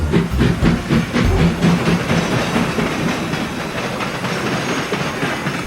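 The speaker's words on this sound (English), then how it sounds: "And with that, James puffed away" A steam locomotive puffs steadily along the rails, loud and continuous, with rhythmic chuffing and a running rattle of wheels and hiss throughout and no talking.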